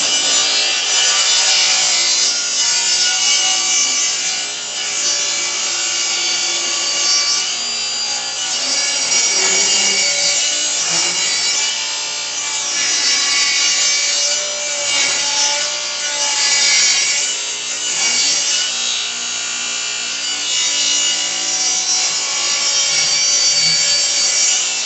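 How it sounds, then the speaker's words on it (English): A saw rips a wood board lengthwise down to a 5/8 width, giving a continuous loud, gritty buzz of blade on wood that rises and falls slightly as the cut goes on, with no talking. "I'm going to rip it all down so it's 5/8 all the way."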